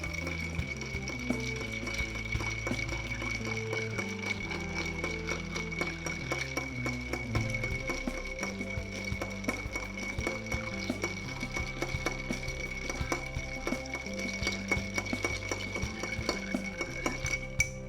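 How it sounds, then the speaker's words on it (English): Ice swirls inside a mixing glass as an equal-parts White Negroni is stirred, giving soft, steady, rhythmic clinking that carries on throughout without any voices. "stirring for 20 seconds on that equal parts White Negroni"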